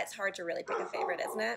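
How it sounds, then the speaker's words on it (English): Neighbors' dogs bark and yip close by in a backyard while a person keeps talking over them. "I apologize for the dogs."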